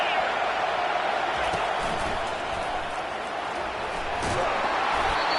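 Stadium crowd noise from an NCAA college football video game, a steady loud roar rising slightly as fans react to the defense, with no talk over it.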